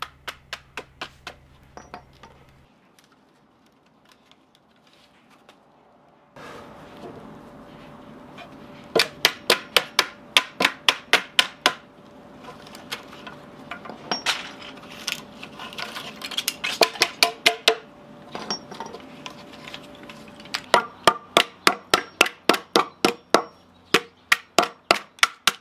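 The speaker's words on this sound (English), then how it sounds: "the easiest method to remove these wastes or the waste is to take a hammer and whack them apart" A hammer whacks wood waste out of notches cut in a pallet 4x4 for a workbench, sharp knocks coming in rapid bursts of a dozen or so strikes, separated by quieter scraping and handling, close and loud.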